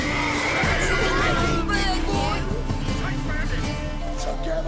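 A horse whinnies and neighs in The Witcher III amid a tense cutscene, with a loud, wavering cry rising over clattering action and voices speaking throughout.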